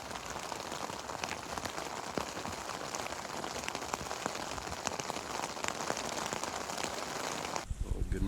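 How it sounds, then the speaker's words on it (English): Steady, dense rain drums on a backpacking tent at an alpine lake campsite through the night, a continuous close patter of drops that cuts off abruptly near the end. "It rained all night long, just beating down on the tent."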